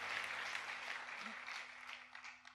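Congregation applause during a church revival service, a dense continuous clatter of many hands that fills the room, with a faint voice murmuring underneath and the clapping thinning toward the end.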